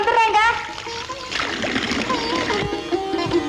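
Hands are washed under running water, with splashing and trickling heard close by while people talk over it indoors.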